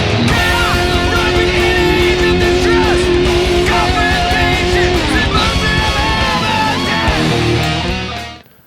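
Heavily distorted electric guitar plays the pre-chorus, dense and loud with sustained chords and sliding bends, continuing steadily until it cuts off and fades at the end.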